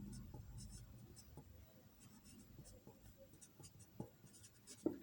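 Pen scratching on paper while a math solution is worked out, quiet continuous writing strokes with soft murmured speech underneath.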